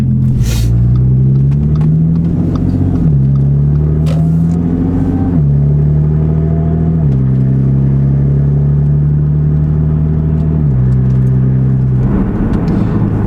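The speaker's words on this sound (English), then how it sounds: "This is our little test drive around the block." A supercharged Audi S4 cruises around the block on a test drive, its engine droning steadily and shifting pitch in stepped gear changes, with road rumble throughout and no talk.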